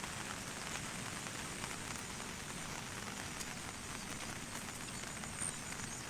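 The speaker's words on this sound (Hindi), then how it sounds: "झमाझम बारिश हो रही है" Heavy rain pours down steadily in a mountain village, a dense, even hiss of drops hitting surfaces nearby, with no voices.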